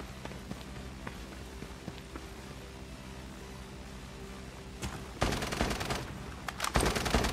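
AK-style rifle gunfire in the video game Lost Light, scattered single shots early, then sharp rapid bursts of automatic fire toward the end over low background noise.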